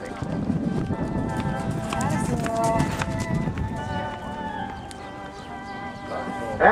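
Hooves clip-clop steadily as horses walk in a show ring, mixed with background voices and general crowd noise.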